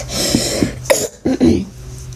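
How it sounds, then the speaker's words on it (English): A person with a slight allergy coughs several times in short, separate bursts, mixed with throat clearing and breaths, close and fairly loud, without speech. "Sorry with all the coughs. I just have a slight allergy problem."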